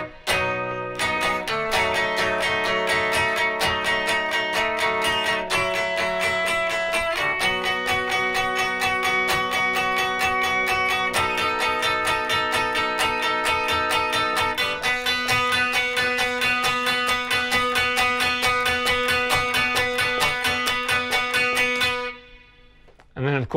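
Electric guitar plays the bridge of a song, steady strummed chords changing every few seconds over a continuous loud, slightly distorted tone, alone with no talking, ending in a short pause and a final hit.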